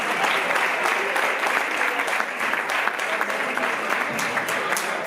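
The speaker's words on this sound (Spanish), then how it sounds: "Un aplauso para Manuel Amide" Sustained, dense applause from a large audience at a bullfighting awards gala in Segorbe for an award recipient, a continuous roar of clapping with little talk beneath it.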